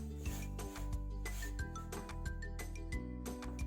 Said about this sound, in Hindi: इस तरह मुसलसल चम्मच चलाते हुए हमने इसे भूनना है।